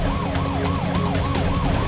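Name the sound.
police car siren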